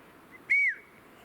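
A person gives one short, steady, high whistle to mountain jays, close and clear against a quiet outdoor background.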